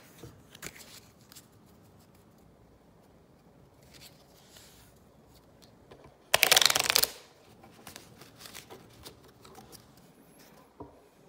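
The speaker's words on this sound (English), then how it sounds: "I'm going to shuffle the cards." Playing cards shuffled by hand during a tabletop board game session: a quiet room with scattered soft taps and flicks, then one brief loud riffling burst midway, followed by more light card handling.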